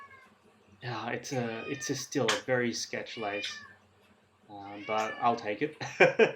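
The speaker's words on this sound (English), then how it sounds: "Sorry about my cat, you can hear in the background, she's hungry." A hungry pet cat meows in the background beneath close, continuous talk by a person, the cries faint and partly masked by the voice.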